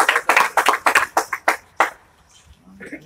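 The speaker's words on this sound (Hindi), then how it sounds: "तालियां बजाइए थोड़ा सा, अच्छा से तालियां नहीं बज रहा है" About a dozen hand claps from a few people at an online test result session, close and fairly loud, coming in an irregular rhythm that thins out and stops partway through, followed by quiet.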